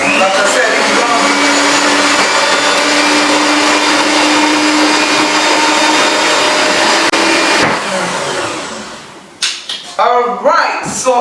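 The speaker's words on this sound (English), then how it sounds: "So then the machine is going to help us to whisk it, or it's going to help us to mix it well." An electric mixer whisks milk and cream for ice cream with a loud constant motor whine that cuts out near the end, followed by brief clattering and a voice speaking.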